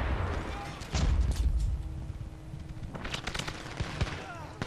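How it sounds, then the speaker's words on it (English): Bursts of gunfire and a flashbang detonation from an online 6v6 Brink tournament match, with loud cracks around one second and a dense volley near three seconds over game ambience. "Oh, flashbangs."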